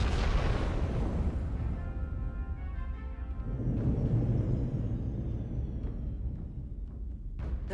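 Starship weapons in Star Trek: Resurgence fire in heavy booming blasts and bursts, a loud opening impact trailing into rumbling low explosions with a sharp crack near the end.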